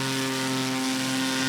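A Cessna 185 taildragger at a short takeoff and landing competition drones steadily with engine and propeller, a strong even hum with a buzzing tonal whine, close and continuous throughout with no talk.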